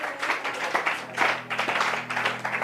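A church congregation breaks into applause, a dense, steady wash of many hands clapping close by for a few seconds with no talking.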